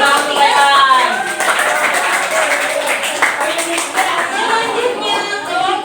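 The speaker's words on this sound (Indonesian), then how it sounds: "Tepuk tangan dulu untuk kelompok 3" Students in an Indonesian-language teacher-training classroom clap for group 3, a dense, steady patter of hands running throughout with voices mixed in.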